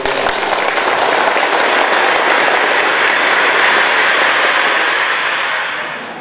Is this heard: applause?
yes